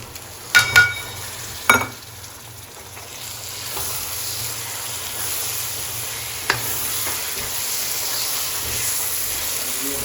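Tomatoes, salt, chili and spices hitting hot onions in a kadai, a couple of sharp clatters at the start, then a steady loud sizzle and hiss of frying that carries on alone.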